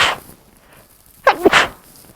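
A single close, sharp human sneeze in two quick bursts, heard alone in a quiet room during a chemistry lesson.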